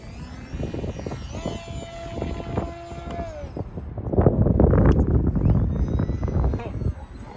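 A fast 20 amp RC jet aircraft makes a low pass in the wind, its turbine whine rising and sweeping past with a strong rushing roar and wind noise, while someone talks excitedly.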